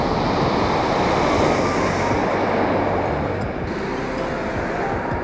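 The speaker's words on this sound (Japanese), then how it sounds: "あ危ないほどじゃないけど、まあまあの波やな。" Sea waves rolling in near a river mouth on the Kumano coast, a continuous heavy wash and rumble that stays loud and steady throughout, with no speech.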